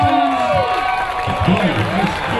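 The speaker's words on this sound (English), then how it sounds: "All right, ladies and gentlemen, one more big round of applause." Audience applause and cheering at a fishing show weigh-in, a steady wash of clapping and crowd noise running throughout under an announcer's voice.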